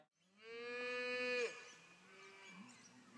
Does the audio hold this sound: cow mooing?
yes